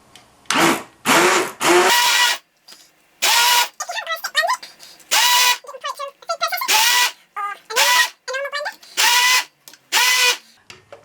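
Butternut squash soup being blitzed smooth with a blender after simmering, the motor whirring in loud repeated bursts separated by short pauses.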